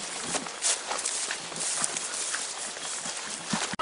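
A male Cambodian cow walks with irregular clip-clop hoof steps on hard ground, the steps close and moderately loud over steady outdoor background noise.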